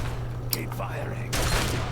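Gunfire in the video game Fallout 3, a few sharp shots and a burst over a steady low background hum, quite close and moderately loud.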